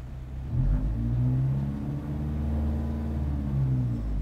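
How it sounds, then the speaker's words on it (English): A manual-transmission car's engine revs steadily as the clutch is let out with light throttle during a stick-shift driving lesson, a close, continuous mid-low rumble with rising and falling harmonics and no talk. "let the clutch out and just give it a little bit of throttle"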